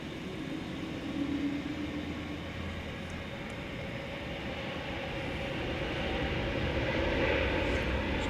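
A Frontier Airlines jet takes off at night from DFW Airport, its engine roar faint and distant at first and slowly building in loudness.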